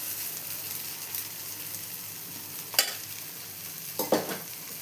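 Urad dal batter for dibba rotte spreads across a hot oiled pan with a soft, low, continuous sizzle, punctuated by two brief sharper scraping bursts of the spoon near the end.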